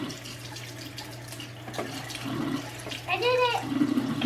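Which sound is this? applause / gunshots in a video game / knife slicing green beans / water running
water running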